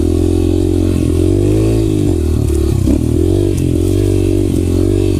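Small Yamaha TTR dirt bike engine droning steadily up close on a forest trail, with a loud, continuous buzzing note that dips and rises slightly as the rider shifts and throttles, plus occasional clattering from the rough track.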